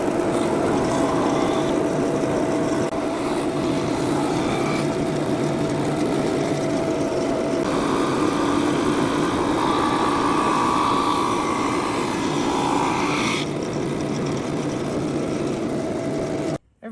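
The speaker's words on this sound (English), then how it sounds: "All right, we've got it running through the drum sander." A drum sander running a wooden board through, a loud continuous motor drone with a steady grinding hum that shifts in pitch as the wood feeds, stopping abruptly at the end.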